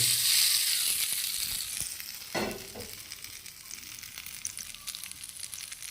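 Spices for a tempering sizzle loudly in hot oil for bitter gourd chutney, a bright crackling hiss that flares once mid-way as something drops in, then settles to a softer steady fizz.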